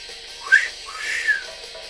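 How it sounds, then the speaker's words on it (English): A person whistles a short, wavering tune of a few rising and falling notes, fairly loud and close, with no speech over it. "That's a bad whistle, I know."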